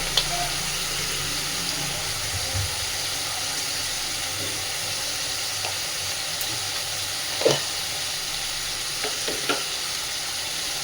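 Turmeric powder and salt sizzle in hot oil in a pan for a traditional Bombay duck fish curry, stirred in with a steady loud frying hiss and occasional utensil scrapes, no speech.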